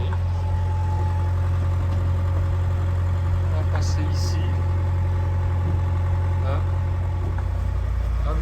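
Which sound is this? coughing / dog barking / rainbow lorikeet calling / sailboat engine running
sailboat engine running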